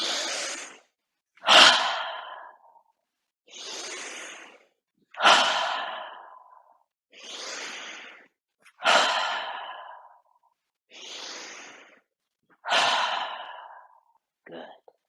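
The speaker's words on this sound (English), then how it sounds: "So breathe in." Slow, deep breaths during a relaxation exercise, alternating long inhales and exhales at a steady calm rhythm, about eight breaths, close and clear with no talking.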